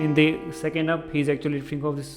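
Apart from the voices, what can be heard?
None of the usual background noises is heard.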